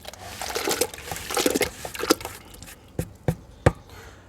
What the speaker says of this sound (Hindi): तो इस मिट्टी को हम इसमें गुड़ वाले पानी में मिला देते हैं।